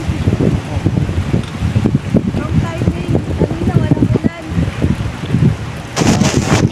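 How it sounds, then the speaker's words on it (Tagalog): Strong wind roars and buffets against the microphone while rain pours steadily at a fiesta, loud and close throughout. "Hawak-hawak na ni Ate Sheila yung payong dahil nililipad ng hangin"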